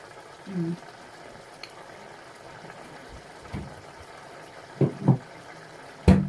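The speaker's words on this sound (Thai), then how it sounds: "มันก็เดือดพุดพุดพุดพุด" Liquid boils in a pot for a Thai home-cooked dish, giving a low, steady bubbling hiss broken by a few louder pops and plops close by.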